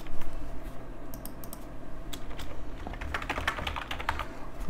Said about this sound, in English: here I should type the name